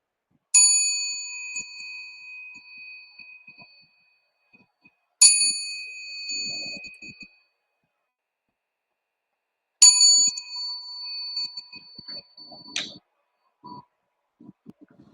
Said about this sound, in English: You'll hear the bell being rung 3 times